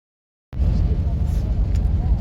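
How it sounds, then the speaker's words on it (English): A car drives the road from the Tajik border toward Khujand, a steady close low rumble of engine and tyres starting abruptly after half a second of silence and continuing evenly. "We're driving to Khujand."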